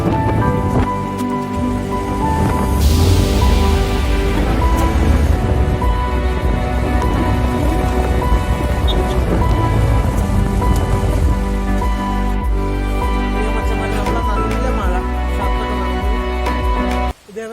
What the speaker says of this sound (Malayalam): നല്ല മഴയും പെയ്തു.